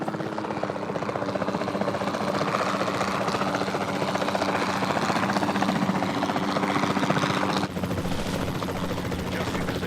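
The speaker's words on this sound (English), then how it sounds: "Then the sensible thing is to take a capture team helicopter" Capture team helicopter in Jurassic World Evolution 2, a steady loud rotor and engine drone filling the whole stretch, with game sound layered in and a brief dip near the end.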